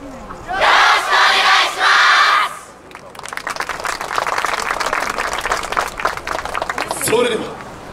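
Yosakoi festival crowd at the outdoor eve-of-festival stage at Takahama Ryokuchi, Kobe, during a Kyoto Bunkyo University team's performance, loud rhythmic clapping in unison after a short amplified announcement, with a final burst of voices.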